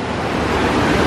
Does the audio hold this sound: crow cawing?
no